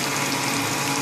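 Bacon frying crispy in a pan, a steady dense sizzle and crackle that holds evenly throughout, with no talking.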